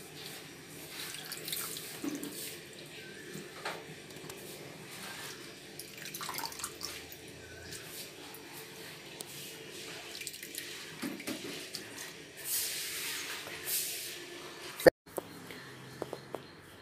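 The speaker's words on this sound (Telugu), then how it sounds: "దీంట్లో ఏమీ లేకుండా చూసి శుభ్రంగా కడుగుతాం" Small seeramenu fish are washed under running tap water, a steady splashing stream with intermittent sloshing and handling noises close by, with no speech.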